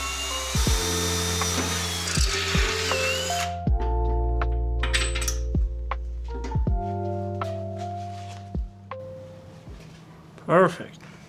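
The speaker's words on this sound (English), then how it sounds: "So I'm going to drill this hole out and that hole on the opposite side" A drill bores a hole in a Rogue Fab tube bender during an electric-over-hydraulic upgrade, running in several whining bursts that start and stop, with a few thunks and clatters between them.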